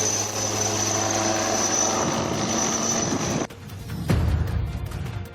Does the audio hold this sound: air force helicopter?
yes